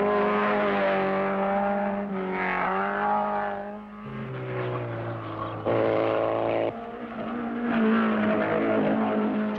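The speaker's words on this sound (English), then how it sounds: "Now the big bangers are chasing the small cars hard," Engines roar and rev with shifting pitch as racing cars speed by at the 1965 Targa Florio, loud and continuous, rising and falling as they accelerate.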